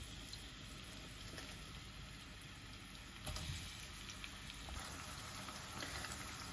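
Onion frying in oil in a pan, a steady, continuous sizzle holding at an even level throughout, with slight swells where the pieces are stirred, near and alone with no talk.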